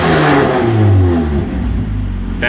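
Mazda Miata engine with a cheap race exhaust header revving hard, pitch climbing and falling through a loud rasping sweep before settling back toward idle, close and alone with no talk.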